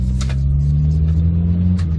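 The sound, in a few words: 1972 Austin Maxi 1750 car driving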